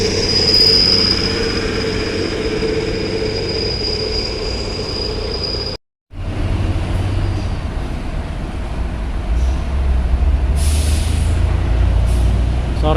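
Private cars and trucks roll through a ferry port entrance in a continuous low engine rumble and road noise, with a high whine above, one brief cut, and a hiss like an air brake near the end.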